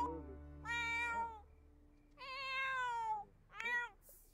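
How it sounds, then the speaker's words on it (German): A cat in The Sims 4 meows three times in clear, drawn-out cries separated by short pauses, close and alone. "Er maunzt."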